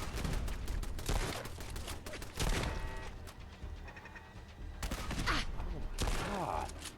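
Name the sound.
turrets firing in the video game Fallout London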